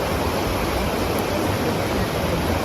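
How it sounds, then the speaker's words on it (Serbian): Warm, mineral-rich thermal spring water bubbling up at a spa spring, heard as a steady, dense, broadband rush and gurgle that holds constant and alone without pause. "Vidiš kako brbućka, kako izbija topla,"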